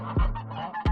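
A male goose kept on a farm honks loudly and close by, two short nasal calls in under a second.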